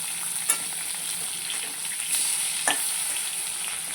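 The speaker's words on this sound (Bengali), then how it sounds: "এরকম করে মাছগুলো ভাজবেন" Hilsa fish fry in oil with black cumin, a soft continuous hiss of sizzling oil close by, broken by a few faint clicks and a brief scrape as the pieces are turned.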